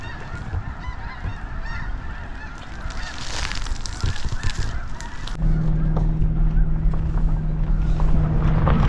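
A large flock of geese honks and calls at a bird refuge, loud and dense, with a steady engine hum joining partway through.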